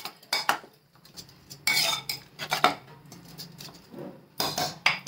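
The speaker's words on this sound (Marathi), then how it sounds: "आता घोटून घ्यायचं आपल्याला" Cooked spinach with dal and peanuts being mashed in a pressure cooker pot, a series of short metallic scrapes and clinks of a utensil against the pot in uneven bursts, close and moderately loud, with no talking.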